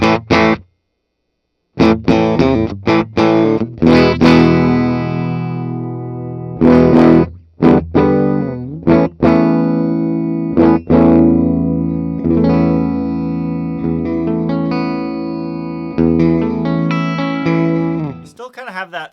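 A 1979 Gibson Les Paul Super Standard electric guitar played through effects, with loud, sustained chorus-tinged distorted chords and notes after a short silence, ringing and reverberant, with speech mixed in.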